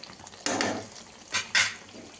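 Crab masala curry stirred in a pan on the stove, a few short scraping, sizzling bursts of the spoon against the pan, close and fairly loud, with quiet gaps between strokes.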